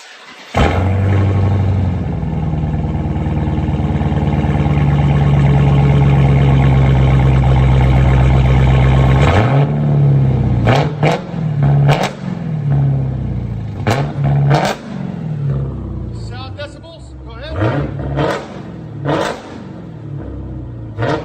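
A 2019 Dodge Challenger Hellcat Redeye with a 6.2L supercharged V8 and straight dual exhaust holds a loud, sustained rev, then drops into a burbling idle broken by sharp throttle blips and crackles.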